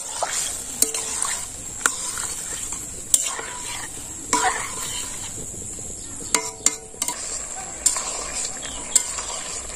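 Dried chilies fry in a pan and are stirred steadily, with a bright continuous sizzle punctuated by repeated scrapes and clinks of a utensil against the pan.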